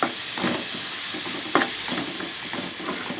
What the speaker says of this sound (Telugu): పచ్చివాసన అంతా పోయింది, బాగా వేగిపోయింది.